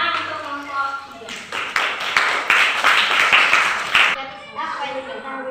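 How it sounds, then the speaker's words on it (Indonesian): A classroom of students claps for a group after their answer to a temperature problem, a burst of clapping lasting about three seconds between stretches of a teacher's voice, which also runs under part of the applause. "Tepuk tangan untuk kelompok 3"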